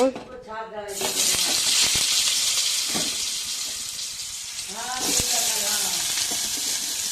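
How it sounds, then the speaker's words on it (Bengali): Potatoes frying in hot oil in a wok, giving a loud, steady sizzle that fills the whole stretch. A voice talks briefly at the start and again near the end. "আলুগুলো তার আগে ভেজে নিচ্ছি"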